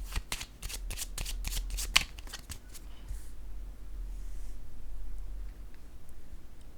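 Tarot cards being shuffled by hand, a quick run of crisp riffling snaps in the first few seconds, then fading into soft quiet handling, close and fairly faint.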